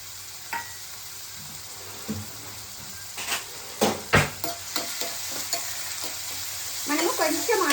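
Onions, green chillies and garlic fry in oil in an AMC wonder bowl, with a steady sizzle under repeated sharp scrapes and clinks of stirring that bunch together toward the end; close and fairly loud, no talking.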